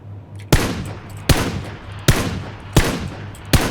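Gunfire in PUBG (Battlegrounds) rings out as five loud single shots evenly spaced about three-quarters of a second apart, each with a sharp crack and a short decaying tail over a low steady hum.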